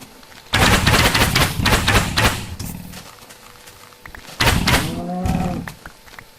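Rapid bow shots in Minecraft fired in quick succession, loud and close in two clustered bursts separated by a short lull, with no talking.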